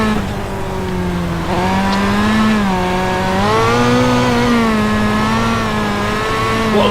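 A stock, out-of-the-box car in the iRacing sim, its engine a steady, loud buzzing drone that rises and falls in pitch through gear changes and throttle shifts, with no voices over it.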